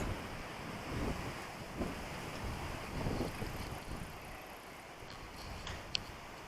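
A steady roar of wind and breaking waves on a riverside fills the air, constant and broad with faint gusts, no voices.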